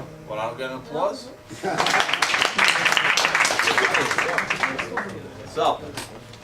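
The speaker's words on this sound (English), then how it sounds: "applause?" A class gives brief applause after a singer finishes a song, a burst of clapping and cheering mixed with voices, loud and close, fading as talk resumes.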